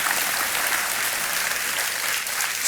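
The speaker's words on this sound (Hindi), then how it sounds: "तालियां बजती रहें इनके लिए" A studio audience applauds a quiz show contestant with sustained, even clapping that holds at a steady level the whole way through.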